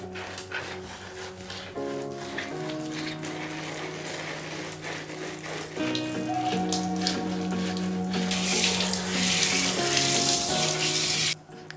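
Tap water runs continuously while a pet is bathed, a close splashing stream with shifting tones as the flow is caught and redirected, swelling into a louder, brighter gush near the end.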